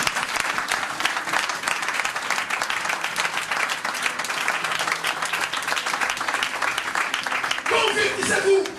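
A church congregation breaks into sustained applause and acclaim for the Lord, dense clapping with scattered cheers and voices that swells louder near the end.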